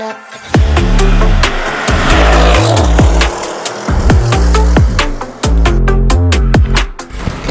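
A 2.5-litre sports car engine revving loudly during a test drive, with repeated rising and falling surges and sharp gear-change breaks, heard close and with no talking.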